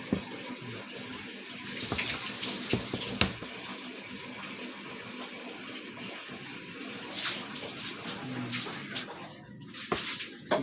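Tap water runs steadily over sliced ripe fruit being washed in a home kitchen, a continuous close splashing hiss with occasional clatter and shifts in the flow.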